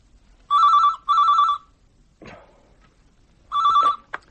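A telephone rings in an audio drama, giving two close electronic trilling rings, then a pause with a faint rustle and click before a third ring is cut short, clear and near in a quiet room.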